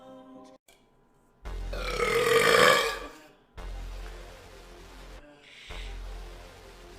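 Loud, drawn-out belching from a woman, one big burp followed by a couple of lower rumbling ones with short pauses between, close to the microphone.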